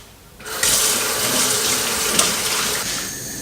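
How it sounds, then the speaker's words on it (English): Hands being washed under a running kitchen tap while cooking chicken stew: a steady, close rush of water starts abruptly after a quiet moment and continues evenly to the end, with no talk. "I'm gonna clean my hands"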